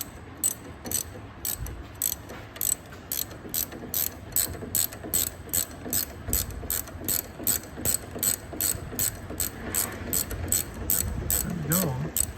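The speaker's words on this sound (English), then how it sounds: "I'm just gonna wrench right now. 11/16 ratchet wrench." An 11/16 ratchet wrench turns a fastener on a G-body Cutlass, its pawl clicking in quick, steady bursts of ratchet strokes, close and clear throughout with faint background noise.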